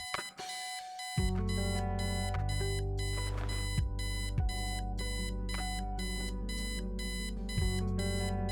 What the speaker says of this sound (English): obnoxious alarm clock. The noise makes me want to stab myself with something dull.